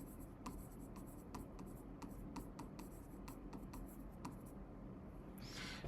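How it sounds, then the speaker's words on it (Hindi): A journal entry heading is written by hand, heard as a faint, close run of quick scratchy strokes and taps at an uneven rhythm in a quiet room. "ऊपर मैं लिख देता हूँ जर्नल एंट्री"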